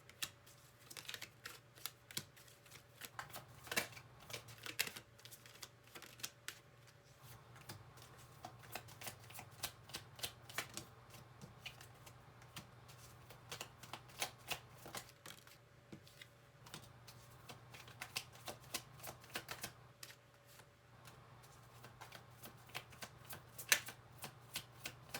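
Tarot cards being shuffled in repeated bursts of soft riffling and flicking, close and fairly quiet, with a steady low hum underneath and no talking.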